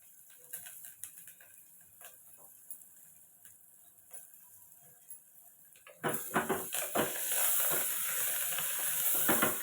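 Onions frying in a pan for boti curry, faint scattered crackles and utensil taps, then a sudden loud, steady sizzle with sharp pops as more goes into the hot pan.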